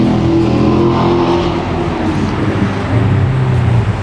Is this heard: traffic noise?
yes